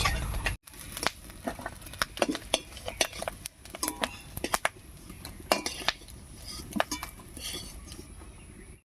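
Fried fish-roe fritters lifted out of a frying pan with a metal utensil: a series of light clinks and scrapes against the pan at an irregular pace, close and fairly quiet, with no talking.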